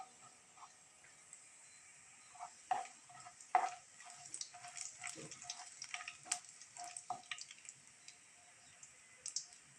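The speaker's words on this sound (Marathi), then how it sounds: "जिरं चांगलं तडतडले की आपण त्याच्यामध्ये कांदा घालणार" Cumin seeds crackle in hot oil, starting as faint scattered ticks and building into a busier patter of small pops and sizzling over several seconds, fairly quiet and close.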